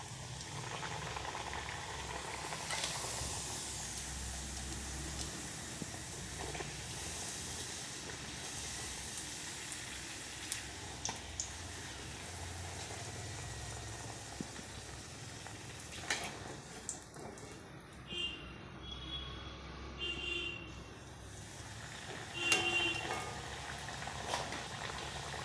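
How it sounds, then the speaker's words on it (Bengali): Luchi fry in hot ghee in a kadai, a steady, low bubbling hiss that holds throughout with a few brief crackles and clinks, fairly quiet and with no voices. "এবারে একটা একটা করে লুচিগুলো ছেড়ে দেব।"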